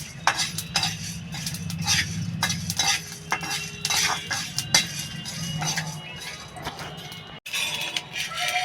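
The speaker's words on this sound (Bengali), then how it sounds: "আমি একটু জিরা আর ধনে আর একটু শুকনো লঙ্কা ভেজে নিচ্ছি শুকনো কড়াইতে" Cumin seeds, coriander and dried chillies dry-roasting in a dry wok for a Bengali greens dish, with steady stirring, scraping and light clinking of a spatula against the metal close up, alongside faint crackling.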